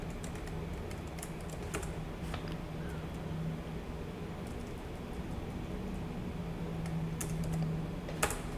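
Quiet, sparse keystrokes tap on a computer keyboard, scattered irregular clicks over a steady low room hum, faint and close with no talking.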